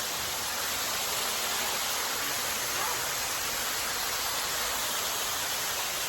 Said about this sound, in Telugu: చూడండి వాటర్ ఫాల్స్